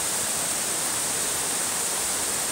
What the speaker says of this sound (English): It's an absolutely beautiful waterfall. The water's flowing really good today.